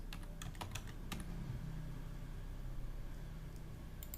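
Keys clacking on a computer keyboard while entering data into SPSS statistics software: quick irregular bursts of close, crisp taps over a steady low hum.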